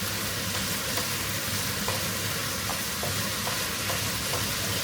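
Chilli mac and cheese gets a spice mix stirred through it in a hot pan, with a constant sizzle and a few faint scraping stirs, close and steady.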